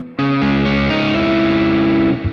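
A loud electric guitar chord with the amp's drive turned up rings out after a quick strum, sustaining gritty and thick for about two seconds before cutting off.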